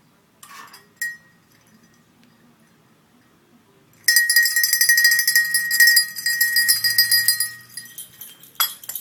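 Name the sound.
recall bell being rung for a dachshund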